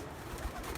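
A pigeon kept at a pigeon-fancier's loft gives a soft, low cooing over faint background noise in a brief snippet.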